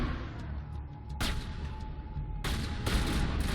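Gunfire in the video game Mass Effect, with a rumbling battle backdrop broken by sharp loud bursts of shots, one in the middle and two close together near the end.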